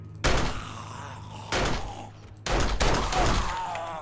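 Gunfire in 7 Days to Die while raiding a cathedral: three loud, abrupt shots, each with a booming tail, spaced roughly a second apart.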